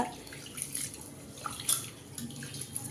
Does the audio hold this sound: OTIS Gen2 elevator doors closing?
no